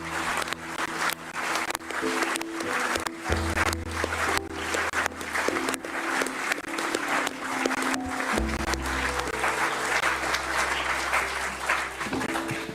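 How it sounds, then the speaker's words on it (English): Steady applause from a crowd at a rally or talk show, continuous and fairly loud over the whole stretch, with low droning hum and sporadic background sounds underneath. "This applause was for you, the people"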